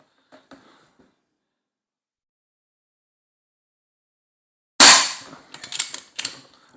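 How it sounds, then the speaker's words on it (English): A .22 SMK PR900W PCP air rifle fires, giving sharp cracks: one faint early snap, then after silence a loud close shot followed by several quick clicks and smaller impacts. "let's put 7 shots through the standard magazine on the paper"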